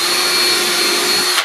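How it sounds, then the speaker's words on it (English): A power drill boring holes into a freehand-carved wooden sign gives a loud, steady, high whine that runs without a break for over a second and then stops abruptly. "drill those holes top and bottom"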